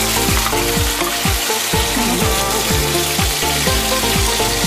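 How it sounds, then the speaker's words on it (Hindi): Onions and tomatoes frying in hot ghee for butter chicken, a dense, steady sizzle that stays loud and close for the whole stretch with no one talking. "ये मैंने प्याज डाली, साथ साथ मैं टमाटर भी डाल दूँगी इसमें।"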